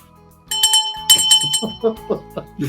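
A bright bell chime rings twice near the start, followed by a voice speaking over the fading tones.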